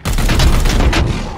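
Rapid burst of gunfire from the Warhammer 40,000: Chaos Gate – Daemonhunters video game, a dense volley of loud shots with heavy low booms running steadily through the whole moment, no talking over it.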